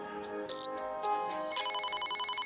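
A phone rings with a repeated electronic ringtone, steady bursts of a tonal pattern over a faint musical background in a Chhattisgarhi comedy scene, fairly close and alone with no talk.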